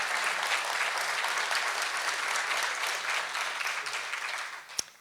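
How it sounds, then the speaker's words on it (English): Audience at a school district event giving school board members a round of applause: sustained, even clapping from a large indoor crowd that slowly tapers off near the end. "please join me in a round of applause for their service"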